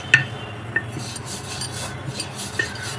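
Besan chapati dough being rolled out with a rolling pin, giving soft, faint rubbing and rasping strokes with a few light knocks spread across the moment, quiet and close with no talk.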